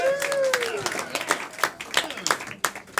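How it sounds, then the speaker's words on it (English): An audience claps for Alex at an indoor group event, scattered uneven hand claps spreading across the room, with a voice calling out near the start. "Clap for Alex, everyone"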